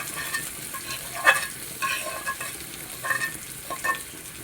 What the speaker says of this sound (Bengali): এখন আমি এটা ভাজতে ভাজতে একেবারে ভেজে ফেলবো